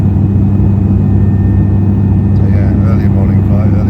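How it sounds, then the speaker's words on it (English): Loud, steady low engine drone inside the cabin of a twin-propeller airliner approaching Grenada, heard close and continuous with muffled talk over it near the end. "It's a twin prop airplane"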